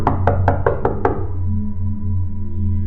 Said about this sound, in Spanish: el herrero fue despertado al escuchar fuertes golpes en la puerta de su casa